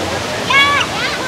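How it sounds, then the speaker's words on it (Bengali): Rain Vortex, the indoor waterfall at Changi Airport, Singapore, sends out a steady, close, rushing roar of falling water, with a brief tonal sound rising over it midway and faint voices in the hall. "দীর্ঘ পথের ক্লান্তি মুছে যায় যখন এই ভর্টেক্স রেইন ঝর্ণার সামনে তারা এসে থাকেন"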